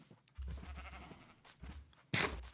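Sheep bleating in Minecraft, a few short bleats over low rumbling background noise, with one louder, brighter bleat near the end.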